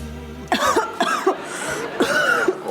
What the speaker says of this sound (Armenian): Ու հենց այս պահին ես հազացի։